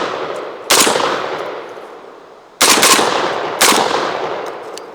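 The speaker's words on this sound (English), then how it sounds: "I'm just gonna dust some rounds down range real quick." A JTS AR-12 shotgun fires loud, sharp blasts outdoors at uneven gaps, each with a long echoing tail, with no talking.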